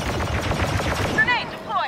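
Rapid bursts of video game gunfire crackle through a busy firefight, with shouted voices and radio-style chatter mixed in and a few whistling, descending tones near the end.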